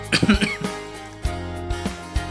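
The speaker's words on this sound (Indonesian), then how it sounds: "Mohon maaf, saya masih batuk." A few harsh coughs close to the microphone, bunched at the start, followed by a couple of softer throat-clearing bursts spaced apart.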